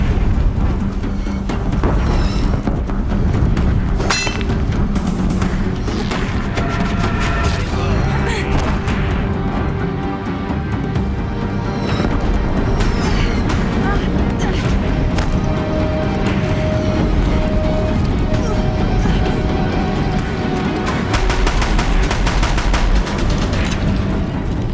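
Gunfire and an exploding bridge in the video game Horizon Zero Dawn: a loud, dense, continuous battle roar of shots and rumbling blasts, with voices speaking over the din.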